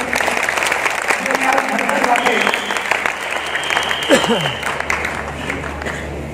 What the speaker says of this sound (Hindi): तो एक बार जोरदार तालियां हमारे सभी प्रोडक्ट्स के लिए